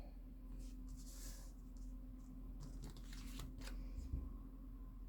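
Oracle cards are shuffled softly and repeatedly by hand in a series of faint, quick riffles and rustles over a low background hum.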